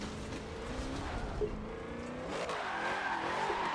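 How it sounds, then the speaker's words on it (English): A car engine in a drifting video game keeps bouncing off the rev limiter, a loud buzzing stutter heard alongside tire squeal from skidding and throttle blips, with no talk. "A lot of limiter bashing going on there."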